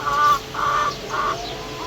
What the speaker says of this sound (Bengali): এদের টাইগার মুরগিগুলো কর্কর করতে শোনেন